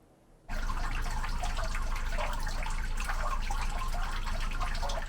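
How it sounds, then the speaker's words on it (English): Leftover rainwater draining in the Kindleton neighborhood of Lewes, a steady rushing, trickling flow that starts abruptly and continues evenly at close range, with no talk. "Some leftover water from this week's rain is still draining in the Kindleton neighborhood"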